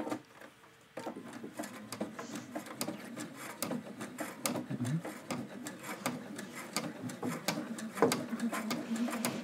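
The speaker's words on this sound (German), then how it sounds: "Also ich nähe jetzt von der Kante entfernt etwa 1 Millimeter ungefähr." A sewing machine stitches close to the edge of fabric for an origami pouch, a rapid, steady mechanical patter near the mic that starts after a brief pause, with people talking over it.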